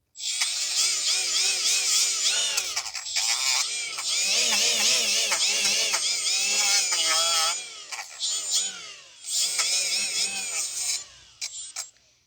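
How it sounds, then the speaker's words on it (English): A wire brush scrubs rust off the front brake parts of a 2012 Ford Fusion 2.5. The grinding has a whirring, wavering pitch and runs in long passes with brief pauses, close and moderately loud. "Then we'll just use a wire brush to clean inside over here."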